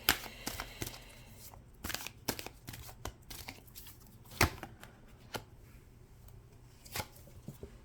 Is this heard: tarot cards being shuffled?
yes